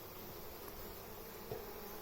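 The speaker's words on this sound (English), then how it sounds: "Coming in to see the bees." Honey bees buzz steadily inside a hive being installed, a dense, continuous droning hum heard close up with no talking.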